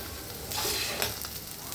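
Eggs frying in a home kitchen pan, a soft sizzle that swells into a brighter crackle midway with a sharp pop, then settles back to a quieter hiss.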